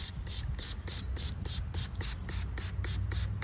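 Repeated quick spray bursts of cleaning solution from a pump bottle onto a Kia car door, about a dozen short hissing puffs in a steady rhythm, close by.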